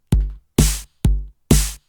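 An electronic drum pattern in FL Studio alternates a punchy low kick with a bright, noisy snare on beats two and four, four hits in an even, steady rhythm.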